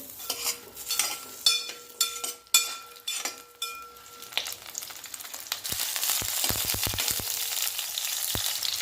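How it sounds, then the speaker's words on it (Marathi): Small stuffed onions go into hot oil and sauté, first with a run of clinking, tapping utensil strokes, then a broad, steady sizzle that fills the back half, broken by a few knocks. "कांदे छोटे ते थोडस परतून घेऊया तेलामध्ये"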